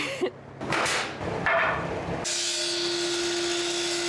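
A power tool cuts out wood trim close to a ceiling light fixture during a shiplap install, a few short harsh bursts followed by a steady high whine with a sustained tone.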